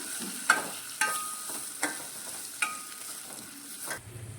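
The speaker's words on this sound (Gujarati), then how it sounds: "થોડોક મસાલો વધ્યો છે જે બનાવ્યો હતો તે તે ઉમેરી દઈશું અને તેને પણ મિક્સ કરી દઈશું" Stuffed bitter gourd being stirred with leftover masala in a pan over low heat: a quiet background sizzle broken by four sharp spoon scrapes and taps spaced about a second apart, ending in a soft clatter.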